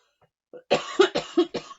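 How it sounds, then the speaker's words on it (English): A short series of four or five sharp coughs in quick succession, close and distinct, with no speech around them. "I covered my cough."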